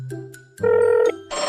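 A telephone rings with short, loud electronic tones that change pitch in quick succession, heard close and clear with no talking.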